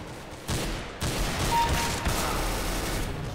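A Negev machine gun fires in CS:GO in dense, rapid bursts that run almost continuously, loud and close, with no voices over it.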